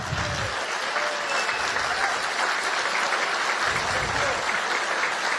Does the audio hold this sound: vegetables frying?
no